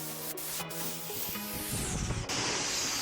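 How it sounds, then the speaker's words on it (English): Spray gun laying a first coat of UV primer over filler on a dented Audi Q3 door panel, a steady close hiss that runs unbroken for a few seconds with no talking. "Here we are going on with the first coat of primer"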